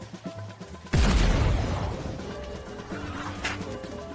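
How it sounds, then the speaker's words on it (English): A fish cannon donation sound effect on a live stream: a few soft knocks, then a sudden loud booming blast that trails off into a rumbling, crackling tail with a tonal hum underneath. "here's the fish cannon donation"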